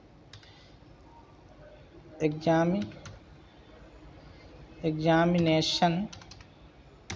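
Light, scattered keystrokes on a computer keyboard while typing in Microsoft Word, with someone speaking briefly over them twice.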